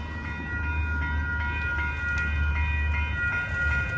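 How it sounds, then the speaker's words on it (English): A Union Pacific train rolls past near Lincoln Park in Los Angeles, a loud, steady rumble of wheels and cars with sustained high metallic squealing tones, close and unbroken. "Seems like the train's slowing down a little"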